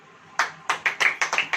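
A church congregation at a sermon claps in a brief burst, several sharp, loud hand claps in a loose uneven rhythm close by, with no talking over them.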